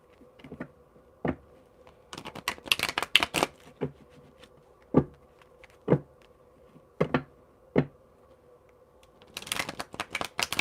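Tarot cards are handled and shuffled up close, with sharp riffling flutters and scattered clicks and taps between bursts, irregular and fairly quiet, with no talk.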